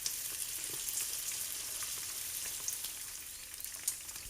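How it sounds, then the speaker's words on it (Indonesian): Chicken pieces fry in hot oil over medium heat, a steady close sizzle with scattered sharp pops and crackles, no voices. "langsung aja kita goreng ayamnya. Goreng di minyak panas di api sedang"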